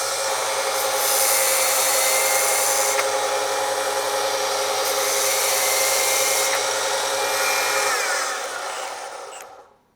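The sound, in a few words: drill spinning a belt to grind a tungsten electrode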